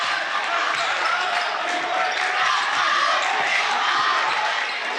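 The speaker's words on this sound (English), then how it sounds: "And the crowd, loud as ever to start" A packed gym crowd roars steadily at a boys' high school basketball game, a loud, dense wash of cheering and shouting with no break, and faint ball bounces and voices buried underneath.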